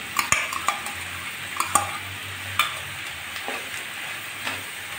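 Mustard paste and spices sizzling in a pan for a Bengali watermelon-rind chochhori, with a steady fry hiss broken by several sharp clinks and scrapes of a spoon against the pan, close and alone.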